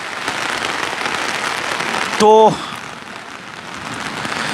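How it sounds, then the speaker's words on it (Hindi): Heavy rain pours steadily at a Delhi–UP border farmers' protest site, a dense continuous hiss throughout, broken briefly midway by a short harmonic sound like a horn or voice, with a single spoken word. "अब बारिश तेज हो गई है"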